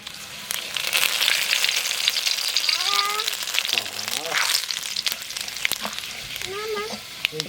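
Cumin seeds and bay leaves sizzle and crackle in hot oil in a pan, a steady frying hiss with a few sharp pops, while a person talks over it.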